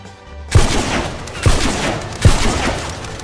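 Rapid gunfire bursts in The Mean Greens: Plastic Warfare, a toy soldier shooter video game, loud and close with three punchy shots amid continuous crackling battle noise.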